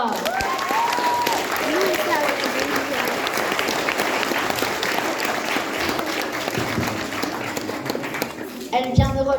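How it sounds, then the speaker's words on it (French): Loud crowd applause at a school fancy fair as a prize winner is called up, sustained clapping throughout with an announcer's voice over it and a brief rattle near the end. "On l'applaudit bien fort!"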